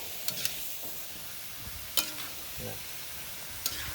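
Bagoong and jackfruit stirred in a sizzling pan for kilawin na langka, a quiet steady fry broken by several sharp scrapes and clicks of a utensil against the pan, no voices.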